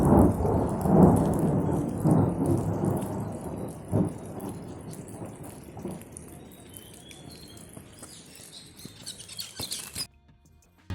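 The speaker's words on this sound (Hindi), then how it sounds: "पाव मेला से निकलते ही बारिश शुरू हो चुकी थी" Heavy rain on a Himalayan mountain trek toward Tapovan, a steady close hiss of downpour with thunder rumbling early on, fading gradually before stopping abruptly near the end, with no talk.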